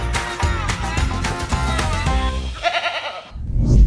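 Goats bleat on a farm in loud, wavering cries that overlap and repeat through a dense, busy sound bed, with a brief lull before a final rising call.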